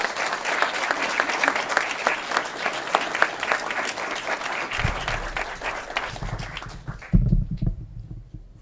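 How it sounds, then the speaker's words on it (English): Sustained applause from an audience at a police department ceremony in a council chamber, steady and dense clapping throughout, with low rumbling and a few louder bursts near the end as the crowd settles. "A round of applause for our new Deputy Chief, Steve Stimmett."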